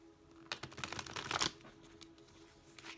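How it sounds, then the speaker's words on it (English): A brief flurry of papery riffling and flicking, the quick rustle of a thick tarot deck being shuffled, close and fairly soft, then quiet handling. "A little cumbersome to shuffle because of it."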